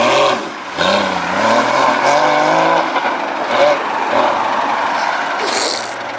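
A supercar pulls away in Alderley Edge near Manchester with poor clutch control, its engine loud and close, revving and bogging unevenly over several seconds while people talk nearby.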